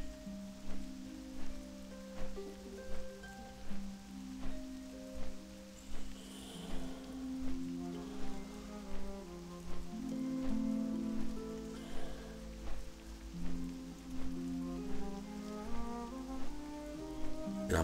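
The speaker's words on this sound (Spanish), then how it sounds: "Mira, ahora se va a poner a llover. Está goteando." Rain falling in World of Warcraft near the floating city of Dalaran, a soft steady patter of drops under relaxing melodic game music with a regular pulsing beat, no voices.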